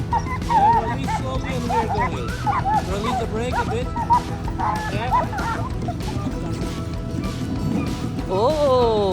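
Huskies bark and yip excitedly at a snowy husky farm before a sled run, in a noisy, busy scene with voices talking throughout and occasional clatter in the background.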